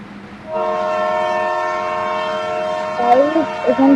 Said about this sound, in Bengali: তাই এখান থেকে কিন্তু ট্রেন যায়